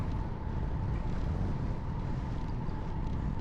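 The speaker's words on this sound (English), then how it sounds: "Again, fighting against the wind, finding some shelter behind the trees" Wind buffeting a cyclist riding into a headwind on a course lined with trees, a loud, steady roar with no pauses for the full few seconds.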